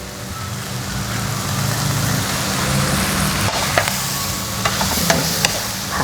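Instant noodles being stir-fried Thai drunken style with holy basil in a pan: a loud, continuous sizzle with scraping spatula strokes and several sharp clicks toward the end.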